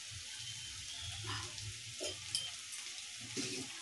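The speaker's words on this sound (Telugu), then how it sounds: "అల్లం వెల్లుల్లి పేస్ట్, గరం మసాలా వేసి వేయించి" Ginger garlic paste and garam masala frying in a pan for chicken curry, a soft continuous sizzle with occasional stirring scrapes, close and fairly quiet, no voices.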